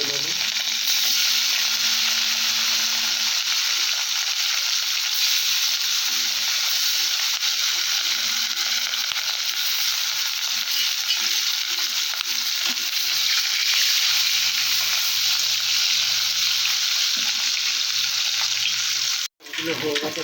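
Pieces of katla fish fry in hot oil with a loud, continuous hiss of sizzling that holds steady for the whole stretch, then stops sharply near the end.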